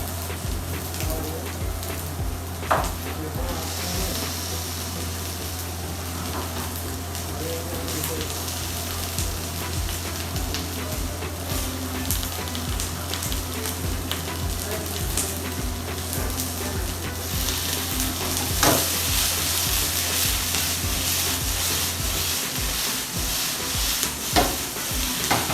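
Okra, fried with chilies in a hot pan by a head chef, sizzles loudly and steadily for a long stretch over a low mechanical hum, with occasional clatters of stirring.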